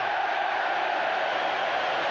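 Football stadium crowd at a Manchester United versus Newcastle match gives a broad, sustained roar of sarcastic applause and noise, distant and continuous without distinct claps standing out.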